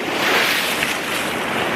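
Ocean water washing against a rocky shore and cliff face at Currumbin, a steady loud roar of surf and flowing water with gusty wind, continuous and close, no talk.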